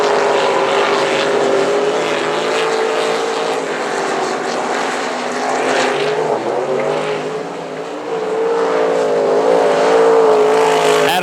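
Race cars circle a speedway track at South Texas Speedway, a loud, continuous engine drone that swells and shifts in pitch as the pack runs the straightaway.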